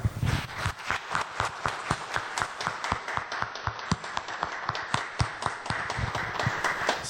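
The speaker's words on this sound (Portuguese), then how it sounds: "vamos nós dar uma salva de palmas a este casal" A church congregation claps for a couple celebrating fifty years of marriage, a rhythmic run of distinct hand claps at a steady beat, moderately near, with no talk over it.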